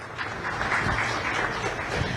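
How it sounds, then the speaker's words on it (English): An audience at the Powering Bharat Summit 2025 claps for the guests, a steady wash of applause that rises slightly after the start and then continues evenly, with no speech. "A huge round of applause for all our guests."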